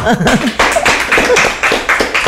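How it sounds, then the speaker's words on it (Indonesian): A small group of people in Mempawah claps in a loose, rhythmic beat, close and loud, with voices talking over the first part of the clapping. "Oke, tepuk tangan."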